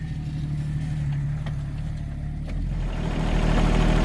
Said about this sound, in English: I'm able to scoot it with the tractor